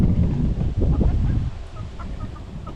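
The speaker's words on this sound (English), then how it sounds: "the chickens did not waste any time getting in here, getting into this grass." Chickens clucking softly in a garden grass area, several short clucks scattered over a steady outdoor background with wind noise.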